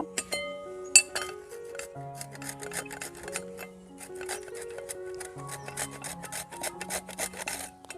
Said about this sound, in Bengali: এখন এখানে আমরা গাজরটাকে গ্রেট করে নিব।